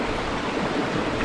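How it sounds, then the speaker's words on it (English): Bronte Waterfall in the Yorkshire Dales, a steady rushing of falling water heard up close as an even, broadband roar with no voices. "Right, here we are at Bronte's Waterfall and Bridge."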